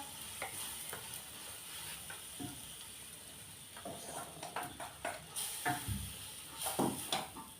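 Spice powders fry softly in hot oil in a pan with scraping stirs and clinks, the frying growing a little louder toward the end; no voices.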